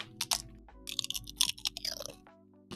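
Chips are crunched and chewed right up against the microphone, giving a quick, irregular series of close, crackly bites with no talk.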